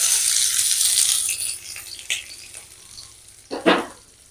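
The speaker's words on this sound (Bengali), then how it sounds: "এবার ভালো করে নেড়ে চেড়ে ভেজে নেব পেঁয়াজ" Chopped garlic and a diced onion fry in oil in a pan with a crisp sizzle that fades as they are stirred, punctuated by a few sharp scraping clatters of the spoon.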